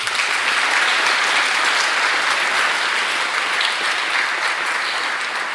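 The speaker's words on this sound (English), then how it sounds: "Please give a huge round of applause for Luke, Lyra, and Rose." A large audience applauds steadily for scholarship award recipients at an event, a dense, continuous clapping sound that stays loud and even for several seconds with no talk over it.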